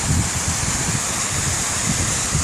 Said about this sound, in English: I hear that little waterfall.